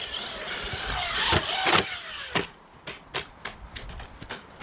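A WLtoys 124012 RC truck drives through grass, a rough motor whir mixed with rustling, then a run of sharp bumps and thuds as it bounces over the ground nearby.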